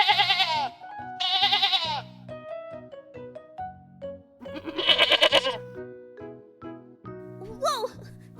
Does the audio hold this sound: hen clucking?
no